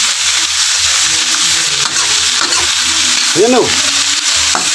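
Jackfruit being sautéed in a hot pan gives a loud, steady sizzle with stirring scrapes and a few clinks. A voice speaks briefly partway through.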